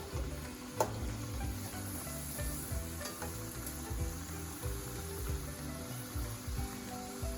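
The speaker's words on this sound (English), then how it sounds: "Now you're going to fry it for 2 to 3 minutes." Khaja pastry frying in hot oil, a steady dense sizzle with bubbling crackle running throughout, close and loud with no voices.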